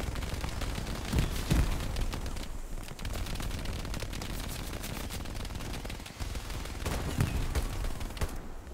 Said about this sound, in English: I love how our artillery is smoking them